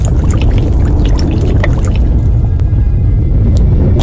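A person plunging into water in a film, heard as continuous loud splashing and churning water with scattered drips and sloshes throughout, close and steady.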